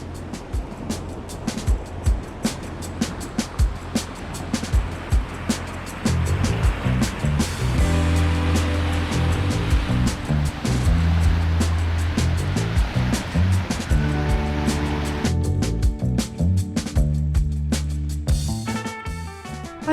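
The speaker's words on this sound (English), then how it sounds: "the sound of the wind in the sails and the water splashing against the hull" Water splashes and rushes against a sailboat hull at sea in the morning, a continuous loud wash with irregular slaps and surges, close by.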